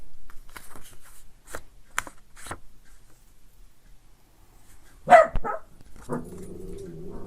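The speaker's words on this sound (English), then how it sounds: "There goes my dog." A pet dog barks indoors, a sharp loud burst of two or three barks after a stretch of quiet tapping and shuffling, followed by a low muffled sound.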